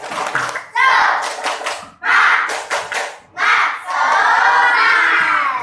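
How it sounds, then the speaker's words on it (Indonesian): Schoolchildren in a classroom shout a rhythmic spirit chant in unison, loud bursts of voices broken by short pauses and mixed with sharp clapping. "Tepuk semangat."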